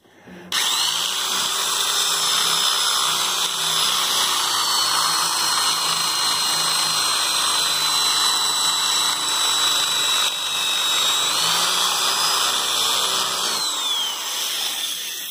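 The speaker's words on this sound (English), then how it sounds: "I have to drill one hole out a little bit" A drill press enlarging a hole, a steady high-pitched whine that runs continuously for about fourteen seconds, loud and close, dipping briefly in pitch under load before it spins down.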